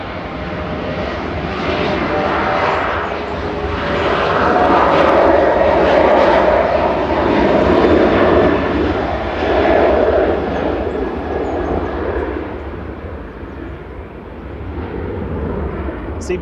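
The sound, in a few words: Ryanair airplane departing to Palma de Mallorca from runway 05 left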